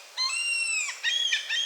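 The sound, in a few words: seagulls calling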